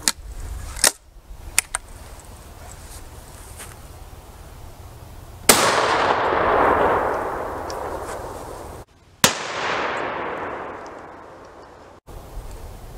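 Two loud blasts from a shotgun fitted with a muzzle brake and an improved cylinder choke, each followed by a long rolling echo that fades away, with faint handling clicks before them.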